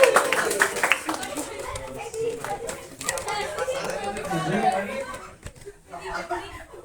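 Applause from a school audience greeting the next performer: continuous clapping mixed with crowd chatter and some laughter, fairly loud and close, fading slightly toward the end.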